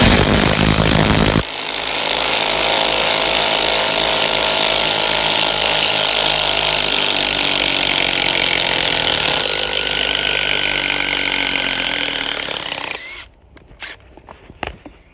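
Two cordless impact drivers, a Fein ASCD18-200W4 and a Makita, removing screws at the same time, a loud, close, continuous hammering rattle lasting about eleven seconds before cutting off into a few faint clatters.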